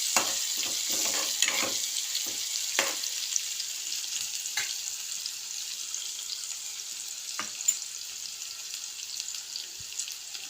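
Onions, dried red chilies, curry leaves and green chilies fry in a pan of tempered seeds, a steady close sizzle broken by scattered sharp crackles and pops, with no voices.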